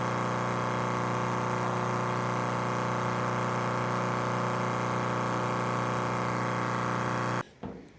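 A Chevy fuel pump runs with a steady electric whine and hum for several seconds as it fills the tank, then cuts off abruptly near the end.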